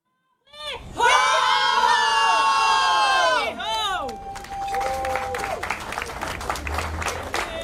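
At an official opening and ribbon-cutting ceremony, a crowd bursts into loud, high-pitched cheering and shouting with children's voices, then settles into sustained clapping mixed with scattered voices.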